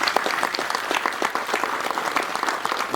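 An audience at a film trailer launch and press meet claps briskly for a few seconds, a dense, fairly close burst of applause with no other sound standing out.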